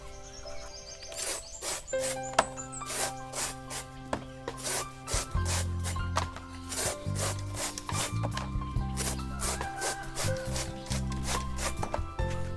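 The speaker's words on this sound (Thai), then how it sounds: "ก่อนอื่นผมต้อง หั่นต้นกล้วยก่อนนะครับเพื่อนครับเดี๋ยวหั่นต้นกล้วยก่อนนะครับ" Repeated sharp chopping strikes on a large banana tree trunk land in an irregular rhythm against a steady backdrop of music, close and fairly loud.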